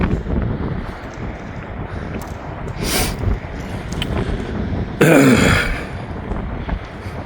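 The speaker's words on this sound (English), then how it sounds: "it's just still as windy. It's just blowing right round the pier." Gusty wind roars around a fishing pier, buffeting the microphone steadily, with a sharper, louder blast midway through.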